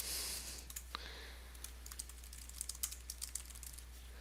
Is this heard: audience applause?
no